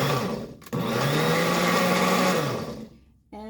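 Blender on its mix setting blending a cranberry kale smoothie: a loud steady motor whine runs for about two seconds, then winds down and stops, and a brief restart follows at the end.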